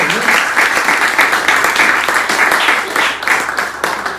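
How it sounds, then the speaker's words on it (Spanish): A church congregation applauds loudly and close by, dense sustained clapping from many hands that keeps going without a break, with a voice faintly underneath. "Dele un fuerte aplauso."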